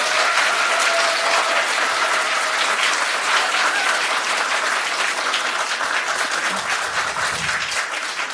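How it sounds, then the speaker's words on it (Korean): An audience at a Democratic Party floor-leader candidates' debate gives the two candidates a long, sustained round of applause, a dense, even wash of many hands clapping without letup. "수고해주신 두 분 후보자님들께 다시 한번 큰 박수를 부탁드립니다"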